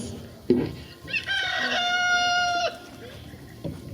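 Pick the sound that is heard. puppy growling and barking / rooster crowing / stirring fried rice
rooster crowing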